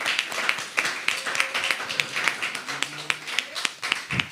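Sparse, rhythmic clapping from a small audience at an event thanks a host for providing the space. The claps are sharp and fairly close, with talk mixed in.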